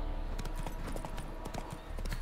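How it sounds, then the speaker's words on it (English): Steady clip-clopping of horse hooves from the video game Witcher 3, a brisk continuous rhythm of hoof strikes over a dense background of game ambience. "This horse."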